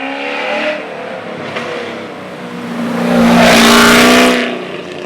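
A 600 whp Cadillac CTS-V accelerating hard, a loud engine roar climbing in pitch with a shift break, then swelling to a louder surge of rushing noise before easing off.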